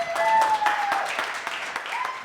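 Wedding guests at Thorpe Garden clapping briefly and scattered, mixed with voices and cheering over about two seconds.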